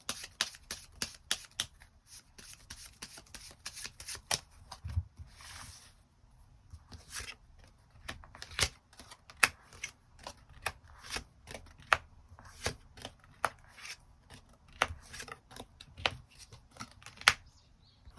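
Tarot cards are shuffled and drawn, a long run of crisp, close card snaps and flicks in an irregular rhythm with brief soft riffling between, heard alone without talk.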